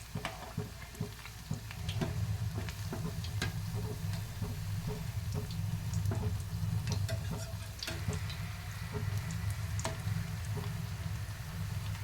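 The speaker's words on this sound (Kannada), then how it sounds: "ಗೋಲ್ಡನ್ ಬ್ರೌನ್ ಆಗೋವರೆಗೂ ಇದು ಮಾಡಬೇಕು, ಡೀಪ್ ಫ್ರೈ ಮಾಡಬೇಕು" Urad dal vada batter deep-frying in hot oil, hotel style, giving a fairly faint, steady bubbling hiss with scattered small ticking crackles throughout.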